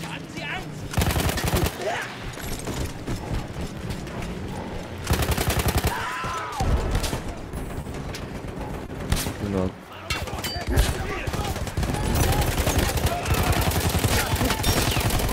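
Gunfire in the World War I shooter Battlefield 1, loud rapid bursts of automatic fire in long stretches with brief pauses, close and dense, with someone talking in Turkish between shots.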